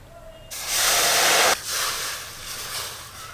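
A bowl of water poured into a hot kadai while making carrot halwa, bursting into a loud, close steam hiss that holds for about a second, then drops to a softer bubbling sizzle that trails off.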